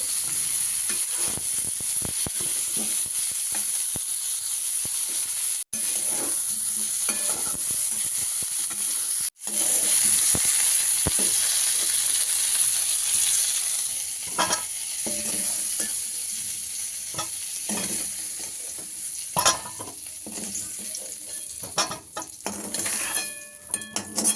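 Cauliflower frying in a wok of hot oil sizzles steadily up close, broken by clinks and scrapes of a utensil against the metal pan, with two brief dropouts and no talking.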